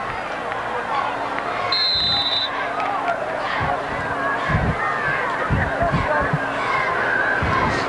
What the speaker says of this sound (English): here, a little cheer from the cheerleaders